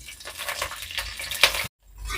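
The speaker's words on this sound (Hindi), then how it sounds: "बैगन को फ्राई करेंगे।" Small brinjals fry in a little oil in a pan for a dhaba-style curry, giving a soft close sizzle with scraping stirs and a clink, cut by a sudden brief silence near the end.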